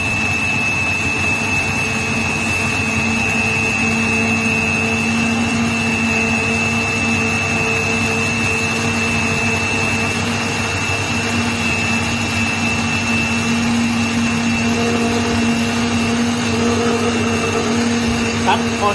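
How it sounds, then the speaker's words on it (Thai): An electric blender runs continuously, blending the ingredients for a chicken rice dipping sauce, producing a loud, steady motor whir with a high whine that holds for the whole stretch without pause. "ดังนั้นเราก็ปั่นเลยนะครับ ปั่นกระแทกไปก่อนนะครับ ปั่นให้ละเอียดเลยนะครับ"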